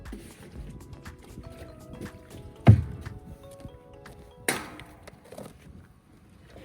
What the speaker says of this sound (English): make sure I can dump and refill this water trough before it gets cold again